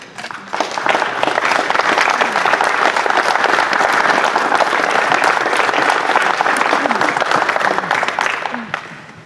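An audience at an Elite Athletic Hall of Fame awards ceremony gives the selection committee a sustained round of dense, loud applause that swells in quickly and tapers off near the end.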